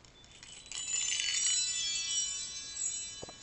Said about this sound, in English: Can't forget the wind chimes.